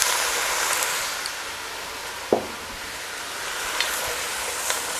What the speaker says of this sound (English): Deglaze with some white wine.